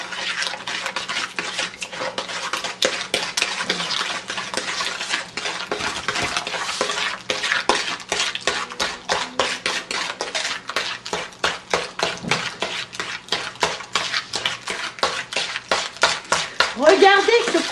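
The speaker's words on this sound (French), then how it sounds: "Et vous le versez dans les œufs mélangés." A utensil briskly beats sugar into whisked eggs in a bowl for an egg cake, giving rapid, steady clinking and scraping strokes that stay loud and continuous, with faint voices in the background.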